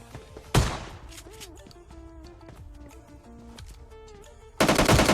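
Gunfire in the PUBG Lite mobile battle royale game: a sharp loud shot near the start, then faint distant shots under game tones, and a closing burst of rapid automatic fire.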